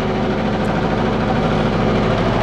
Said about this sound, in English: we've got a diesel engine, haven't we? So it's quite nice and noisy.